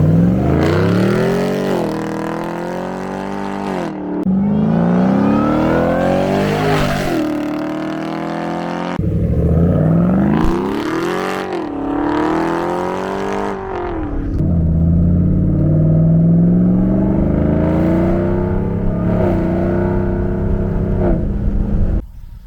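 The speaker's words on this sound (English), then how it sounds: "This is an 88 Land Rover Defender 90 we just wrapped up for a good customer of ours." A supercharged 1988 Land Rover Defender 90 engine runs and revs close by, rising and falling through several loud blips and sweeps, then settling into a steadier drone.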